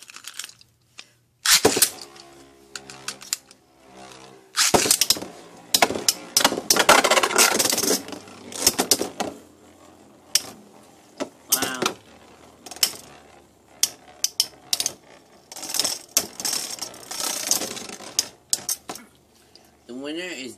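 Beyblade spinning tops battling in a stadium, a busy run of metallic clicks, scrapes and clattering collisions, loud and close, with excited voices talking and shouting over much of it.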